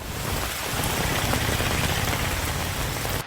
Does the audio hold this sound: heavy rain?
yes